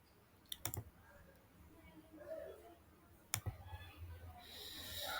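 Sharp computer mouse clicks on a small Python timer app: a quick double click near the start and another crisp click a few seconds later, close and distinct over faint room noise.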